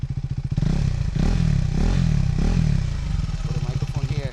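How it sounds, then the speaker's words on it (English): A KTM 390 Adventure single-cylinder motorcycle engine is revved up from a lumpy idle, rising in two or three swells and settling back, loud and close with no talking. "let me just rev it for you"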